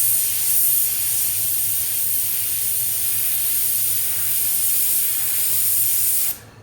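An airbrush sprays paint in one long, loud, steady hiss while a spider design goes onto a Boosa tank, then cuts off abruptly at the end.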